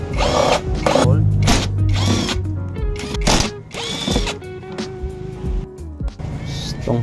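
A power tool drives bolts on a Honda Click scooter during a rear shock replacement, the loud close whirring coming in repeated bursts with short pauses between, and no voices over it.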